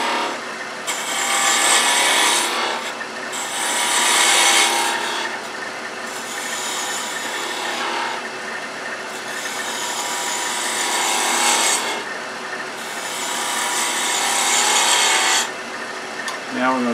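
A carving knife cuts wood for a hot air balloon ornament, giving repeated scraping, rasping strokes in rhythmic bursts of a few seconds each, close and fairly loud, with no talking.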